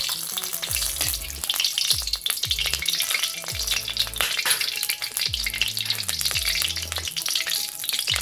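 Loud, busy sizzling and popping from ghee and oil heating in a kadai, accompanied by repeated metallic clinks and scraping.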